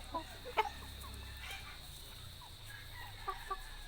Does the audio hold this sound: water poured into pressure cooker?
no